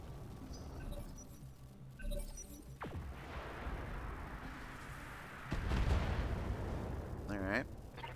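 Mech weapons firing in the BattleTech game: sharp gunfire cracks and heavy artillery-like booms with a sweeping whoosh and a rumbling burst, layered over a continuous game soundscape while someone comments.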